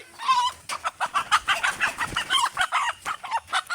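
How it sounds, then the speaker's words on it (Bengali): A native desi hen held in someone's hands gives a rapid run of short, close, agitated clucks at a steady rhythm, with no talking over it. "আমি আমার এই মুরগিটা ধরে দেখাই"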